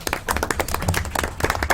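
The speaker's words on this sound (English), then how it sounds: "that round of applause is certainly good" A round of applause at a town council meeting, with distinct individual claps from a modest group, uneven and close, spreading across the room without voices.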